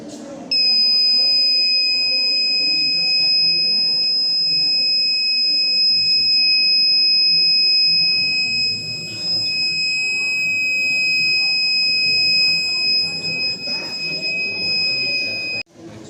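Piercing, steady electronic buzzer tone from a school science-exhibition fire alarm model, sounding almost continuously before cutting off, with a crowd of voices murmuring underneath.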